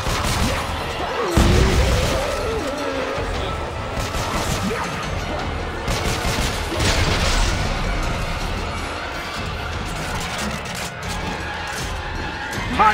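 Gunfire and crashing impacts from the video game Dead Space 3, a dense, continuous barrage of shots and smashes over loud game music, with occasional faint talk.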